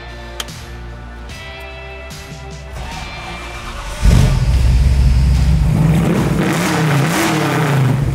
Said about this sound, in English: we're going to take this big block 502-69 Garnet Red Camaro for a ride